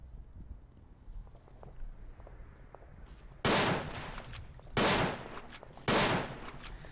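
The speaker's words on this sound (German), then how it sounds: "Ich höre die ganze Zeit Schüsse" Rifle shots in a Verdun deathmatch round, three loud sharp cracks at roughly one-second intervals, each with a short ringing tail, over faint ambient noise and soft distant pops.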